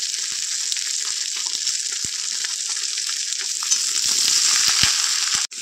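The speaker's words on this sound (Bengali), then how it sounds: "আলুটা নাড়াচাড়া করে নিচ্ছি, ভাজা ভাজা হয়ে গেছে।" Potatoes and onion with salt and a little turmeric sizzle in a pan, a bright continuous frying hiss broken by occasional scrapes and knocks of stirring, growing slightly louder toward the end.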